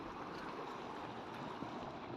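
Heavy rainwater rushing along in a stream, a steady, broadband wash of flowing water that holds at a constant level throughout with no voices.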